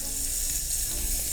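Steak fat sizzles steadily and close up in a hot pan, a continuous bright crackling hiss with no voices over it.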